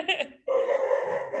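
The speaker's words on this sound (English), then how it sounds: "Sorry, that's my dog." A pet dog barks twice in quick succession close to the microphone indoors, followed by a longer sustained whine or growl-like vocal sound.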